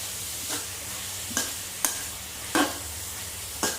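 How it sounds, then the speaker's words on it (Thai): Beef pad kra pao stir-fry with holy basil and long beans is stirred in a pan, a few sharp spatula scrapes landing at irregular intervals over a soft, steady sizzle, with no talking. "เราจะคนจนกว่า เนื้อเขาจะสุกนะครับ"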